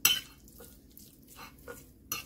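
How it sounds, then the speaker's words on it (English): Metal forks working through meat in a dish for a BBQ sweet potato, giving a few scattered clinks and scrapes, quiet and close, alone. "And now I'm going to take my forks and kind of mix it into the meat."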